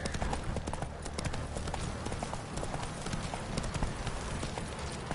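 Hooves clip-clop in a brisk, regular trotting rhythm as Geralt's horse Roach moves along a road in The Witcher 3, close and fairly quiet, with a faint hint of ambience behind.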